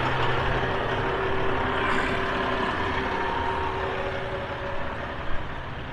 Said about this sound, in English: let me get past this noisy truck